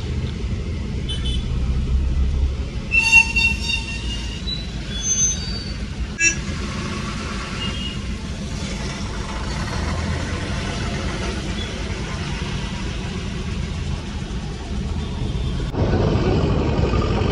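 Steady road traffic rumbles close by on a single-lane road in Kolad on market day, with heavy vehicles droning past in a continuous low roar and occasional brief higher-pitched tones.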